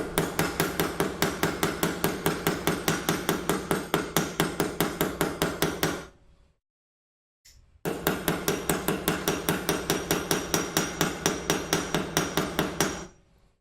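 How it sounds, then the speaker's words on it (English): Rapid, evenly spaced hammer blows ring out in a woodworking shop, loud and close, forming a relentless mechanical-sounding rhythm that stops for about a second before resuming at the same pace. "Shop is a bit noisy because of the hammering."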